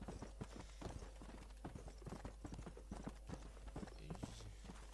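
Steady clip-clop of horse hooves in the video game Red Dead Redemption, a continuous rhythmic trot of sharp knocks with a constant low hum underneath, no voices.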